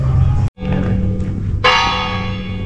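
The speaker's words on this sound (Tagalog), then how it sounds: "tumutunog yung kampana" A church bell rings at a church during a children's fiesta. It starts as a ringing, sustained tone partway through, over steady background crowd noise.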